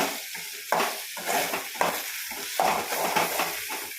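Spatula scraping and stirring a radish and egg stir-fry in a pan, with repeated strokes over a soft sizzle, close and fairly quiet, no talk.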